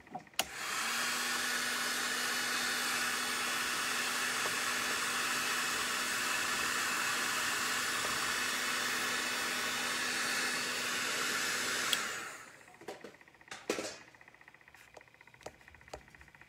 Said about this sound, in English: And I just hit it with a heat gun